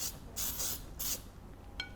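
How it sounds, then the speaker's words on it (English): Short hissing bursts of flour-mixed baking spray into a bundt pan, three bursts in an uneven rhythm, close and clear, followed by a small click of the can, with no talking. "I'm just doing a little extra insurance, a little baking spray."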